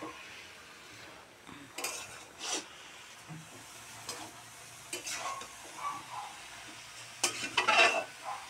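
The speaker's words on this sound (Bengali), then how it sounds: "ভালো করে নেড়ে টেড়ে মিশিয়ে দিই" Spinach being stirred with turmeric and salt in a frying pan, giving scattered scraping and clinking strokes of a utensil against the pan over a faint, steady sizzle, with no talking.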